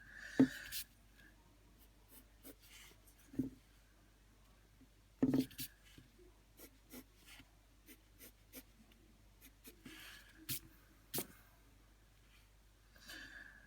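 An eraser rubs out hair strokes on an anime drawing on paper, soft close scrubbing and scratchy strokes in short bursts, faint and quiet throughout.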